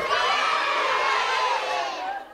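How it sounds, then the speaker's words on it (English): A stock cheer sound effect in a comedy musical: a loud, bright crowd of young voices cheering and whooping together, sustained and then fading out at the end. "Didn't expect the YouTube cheer sound effect."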